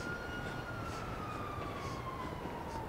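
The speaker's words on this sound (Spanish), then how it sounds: "Ahí viene una patrulla." A police car siren in Grand Theft Auto V wails in a long, slowly falling tone over a steady rumble of traffic and engine noise, moderately loud and with no talk over it.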